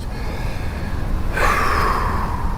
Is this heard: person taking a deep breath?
yes